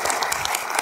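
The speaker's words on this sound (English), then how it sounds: "Can we give Sam a round of applause?" A panel audience applauds Sam, a brief, steady patter of clapping filling a room.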